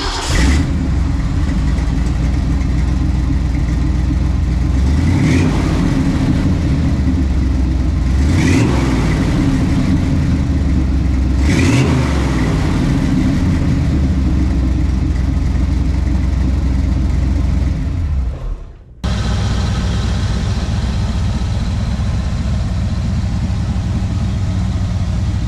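A 1969 Ford Bronco with a 302 engine driving on a test drive, its steady loud engine drone rising in several revving surges, with a brief dip before the engine noise resumes.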